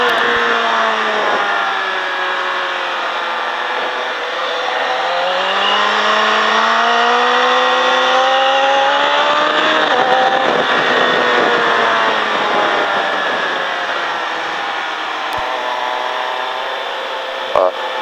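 A motorcycle engine drones and accelerates continuously around the Mettet race circuit, loud and close with rising and falling pitch as gears and throttle shift, while a voice speaks over it.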